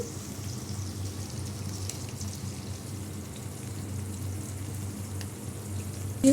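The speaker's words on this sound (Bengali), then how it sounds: "এখন এখানে একটু আদা বাটা দিচ্ছি" Ginger paste sizzles steadily in hot oil in a pan of fried cauliflower, a soft, even crackle that holds without a break and carries no talk.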